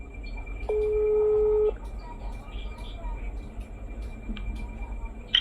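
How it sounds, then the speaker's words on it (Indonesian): A phone dialing out for a call: a steady electronic tone sounds near the start, and faint line noise and small beeps follow it. "Gue telepon dia."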